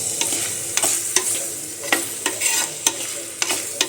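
Ground red chillies fry and hiss in a pan while a spoon stirs them, with sharp scraping knocks recurring every half second or so over a continuous close sizzle.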